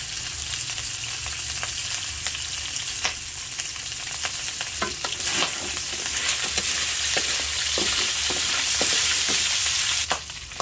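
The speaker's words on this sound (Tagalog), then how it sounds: "Lalagyan ko na po ng mantika na kaunti. At akin na pong igigisa." A little cooking oil sizzling and frying in a pan for sautéing, steady loud crackle with scattered sharp pops and stirring clicks, close up and without speech.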